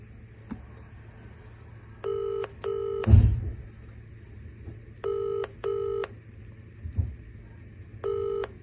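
Telephone keypad tones dial a Vodafone voicemail number: crisp, evenly spaced pairs of beeps in short groups, separated by pauses, with a brief thump and faint background hum between them.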